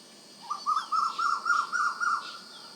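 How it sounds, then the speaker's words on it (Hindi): An Asian koel calls outdoors among trees, giving a quick run of about eight clear, rising notes that repeat evenly at moderate distance. "वो देखिए, कोयल है, दिख रहा आपको"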